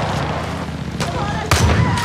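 Loud enemy gunfire in Far Cry New Dawn, booming shots over a rumbling background, with a sharp heavy burst near the end and someone talking through it.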